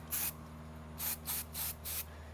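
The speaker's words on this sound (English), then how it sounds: "you don't want to spray too much where you can tell that it's starting to look clumpy" Short bursts of an aerosol powder spray hiss onto a show goat's legs during grooming: one burst, a pause, then four quick sprays in a row, close and crisp over a faint steady background hum.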